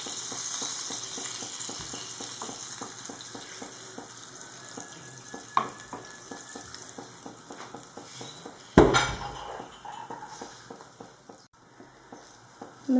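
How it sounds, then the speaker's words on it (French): A glass of water is poured into a tajine of vegetables and spices cooking in argan oil, giving a soft continuous sizzle and bubbling with a few clinks of cookware and one sharper knock, with no talk. "J'ai un verre d'eau que je vais verser pour que ça ne brûle pas les épices."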